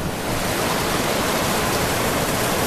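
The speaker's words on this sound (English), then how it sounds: "it's high tide, and we're walking out on the pier, where the water's kind of going out and over the pier." Sea water rushes over a pier at high tide in Nusa Dua, Bali, a loud, continuous broadband wash with no breaks, close and enveloping.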